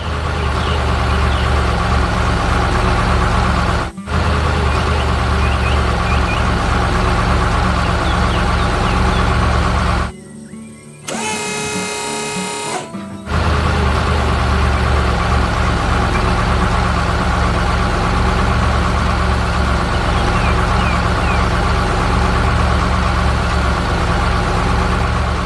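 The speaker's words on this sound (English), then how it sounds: "Now the turquoise forklift takes over. It is like a busy little ant, scurrying back and forth to organize the materials." A turquoise forklift's engine runs loud and close, drones steadily as it moves back and forth, and briefly drops away near the middle before resuming.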